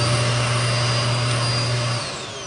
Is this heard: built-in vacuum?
yes